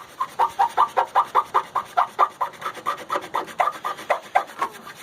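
A hand scraper working paint and rust off a scratched car body panel: quick rhythmic rasping strokes, roughly four per second, close and distinct, repeating steadily with no voices.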